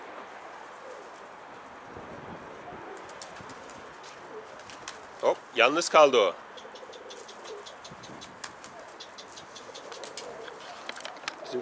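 Pigeons around a coop give a short flurry of cooing and fluttering calls midway, against quiet outdoor background with occasional rattles and someone speaking Turkish.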